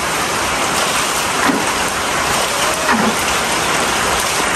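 Loud, heavy rain pours steadily around a fish pond during a tropical storm, a dense continuous hiss of drops hitting surfaces with no speech.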